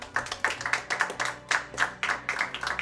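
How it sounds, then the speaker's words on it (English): A small group claps at a speedrunning marathon event, with close, fairly loud, uneven claps in a steady patter that lasts throughout. "So a huge round of applause"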